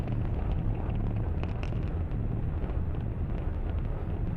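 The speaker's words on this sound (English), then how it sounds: "Falcon 9 has successfully lifted off from pad 39A." A deep, continuous roar and rumble, steady and heavy in the low end with a crackling edge: a SpaceX Falcon 9 rocket's engines firing at liftoff from pad 39A, heard at a distance.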